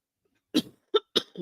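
Three short, harsh coughs close up in quick succession after a moment of silence, followed by the start of a fourth.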